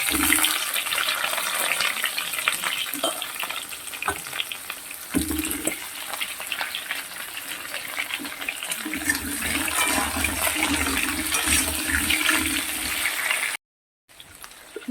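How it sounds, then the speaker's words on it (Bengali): Halved potatoes frying in hot oil, a steady loud crackling sizzle that runs almost without a break, close up, with a brief dropout near the end and no talking. "তেলগুলো গরম হয়ে গেছে তেলটা এবার আমি আলুগুলো দিয়ে দিচ্ছি"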